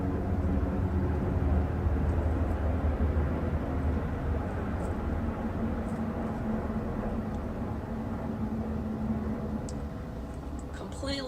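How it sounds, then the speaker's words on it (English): A low, steady rumble of an airplane passing overhead fills the scene, a broad droning roar that slowly fades slightly while indoor room noise sits beneath it. "And now there's an airplane."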